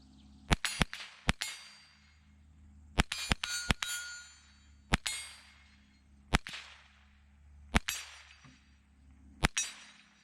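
Rifle fitted with a 1-6 riflescope fired at targets outdoors: sharp cracking shots in uneven clusters of two to four with brief ringing tails, spaced across the stretch, loud and without talk.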